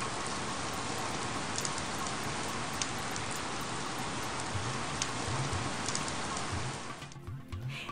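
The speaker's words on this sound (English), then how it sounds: "In a tropical rainforest, it rains nearly every day" Rain falls steadily in a tropical rainforest, a dense, even hiss of drops on leaves and surfaces that stays loud and unbroken before easing slightly near the end.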